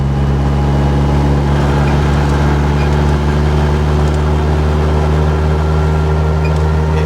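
A 1982 Toyota Corolla with a custom engine and gearbox drones steadily from inside the cabin while driving, a loud continuous low engine hum with even tonal bands and no clear shift breaks.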